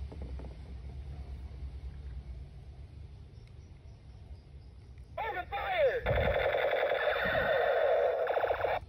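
A blue toy machine gun fires its electronic sound effects, a loud, buzzy synthetic burst of rapid shots with echoing rumble that begins midway through after a stretch of quieter background noise.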